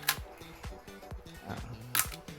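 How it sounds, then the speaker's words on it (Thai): A Nikon FE film camera's mechanical shutter, set for an 8-second exposure, gives two sharp clicks about two seconds apart, close and crisp, with someone talking quietly between them. "ตรงนี้มันจะเป็นชัตเตอร์ 8 วินะครับ อ่าเดี๋ยวเทสให้ดูก็ได้"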